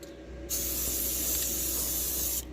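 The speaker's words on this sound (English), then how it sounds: "Throwing on some spray paint to keep all the bare metal and welds from rusting." A spray paint can hisses in one steady, continuous burst of about two seconds onto bare metal and welds in a Mustang's trunk area, close and fairly loud, starting and stopping abruptly.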